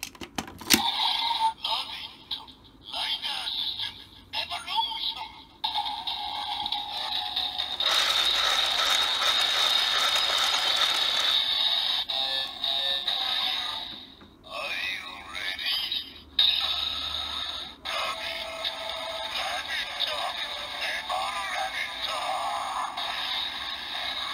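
A gashapon Kamen Rider Build toy driver fitted with a Low Rabbit Full Bottle plays its phase 3 transformation sequence: mechanical clicks, a sustained bright electronic tone, then more chimes and voice effects, fairly faint overall.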